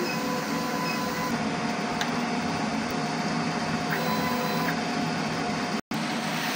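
Inkjet printer running a head cleaning cycle, a steady continuous mechanical whir and hum with faint clicks, close and loud, briefly cutting out near the end.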